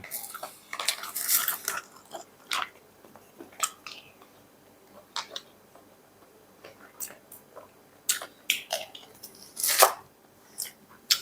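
Someone eats a sausage bought at 7-Eleven, with irregular close bites and crunchy chewing clicks in short bursts separated by quiet pauses.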